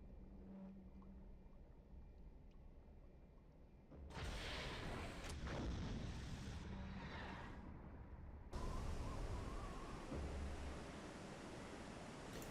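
A torpedo launches from tube one of a U-boat in Silent Hunter 3: a sudden loud broadband rush of air and water cuts in over a low ambient hum, fades, then a second heavy wash of noise follows and holds steady.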